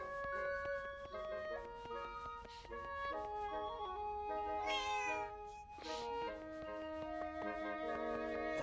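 Meowing from a cat in the Zelda Echoes of Wisdom video game, with rising tonal calls around the middle standing out over steady, busy game music and effects.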